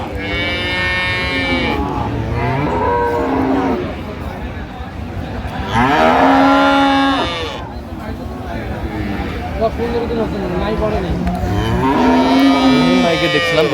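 Dairy cows and calves moo loudly several times at Aftabganj livestock market, Dinajpur, long deep lowing calls rising over a busy background of voices and crowd noise.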